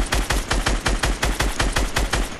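Rapid automatic gunfire in a Fortnite squad match, a steady run of about a dozen evenly spaced loud shots with no talk over it.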